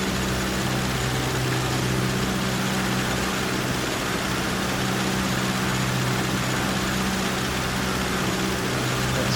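Steady, loud drone of a simulated aircraft engine in FSX, Air Hauler 2, adding a little power on approach to the runway, a continuous low hum running unbroken throughout.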